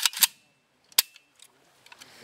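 An AKS-74 rifle fires a control shot into the air, giving sharp, loud cracks near the start and another single crack about a second later, with faint clicks and small sounds in between.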